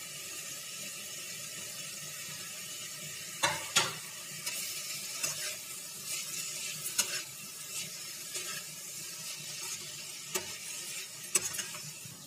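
Small paneer pieces tossed with garam masala and chaat masala in a pan give a soft steady sizzle, broken by repeated scrapes and taps of a spoon stirring.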